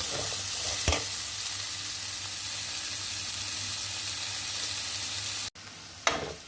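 Mango kernel oil cooks in a pan over the stove, giving a continuous soft frying sizzle with occasional scraping clicks of stirring and a brief gap near the end.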